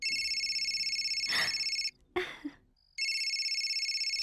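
A phone rings in a Hindi-dubbed action film scene: a steady electronic ring tone that breaks off briefly for a couple of short noises and a voice, then resumes.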